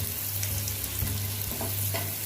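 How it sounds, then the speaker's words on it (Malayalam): Two onions sauté in a hot pan for dhaba-style butter chicken with partly cooked chicken, giving a steady close sizzle with a few utensil stirs and a low hum underneath. "ഇനി നമുക്കിതിലേക്ക് 2 സവാളയും കൂടി ഇട്ട് ജസ്റ്റ് ഒന്ന് വഴറ്റിയെടുക്കാം."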